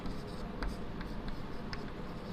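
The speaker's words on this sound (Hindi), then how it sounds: "चलो मैं लिखता हूं यहां पर" Chalk or marker scratches across a board in a 10th-grade science lecture, with a few soft, light strokes over a steady room hum and no talking.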